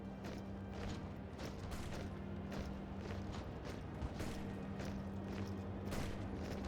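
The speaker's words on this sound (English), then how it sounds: "We're doing a lot of bombing." Bombing effects in the strategy game Hearts of Iron IV: a dense, continuous rumble of distant explosions and thuds in an irregular rhythm over a low steady hum, with no voices.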